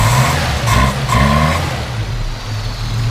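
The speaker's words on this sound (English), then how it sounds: "Go ahead and rev it up a little bit." Close up, the 1971 Dodge-Mitsubishi Galant Colt engine is blipped twice, its pitch rising briefly with each rev before settling back to a steady low idle.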